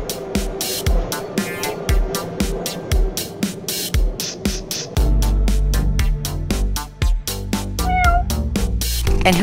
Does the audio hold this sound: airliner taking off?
no